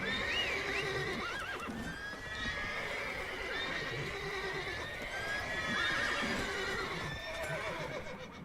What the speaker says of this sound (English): Why is the horse turned hostile?